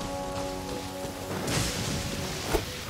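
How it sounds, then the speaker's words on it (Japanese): Heavy rain falling in the video game Genshin Impact, a soft steady hiss of rainfall with scattered drops and a brief louder patter, fairly quiet and with no voices. "大雨の中を歩けば精神が研ぎ澄まされる。"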